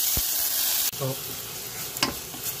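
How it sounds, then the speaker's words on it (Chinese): Butter heating in a pan while making poached cod with pineapple sauce gives a steady close sizzle, interrupted by a sharp knock and a few stirring scrapes; a voice speaks briefly. "再放点牛油，然后加热"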